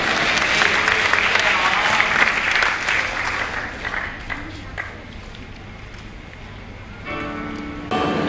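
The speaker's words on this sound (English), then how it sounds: "Let's all welcome them by a clap of hand." Audience applause welcoming a group of trainee singers at a church Bible dedication gathering in Myanmar. Loud, dense clapping fills the first few seconds, then thins and fades toward the end, with a brief swell and a tone near the close.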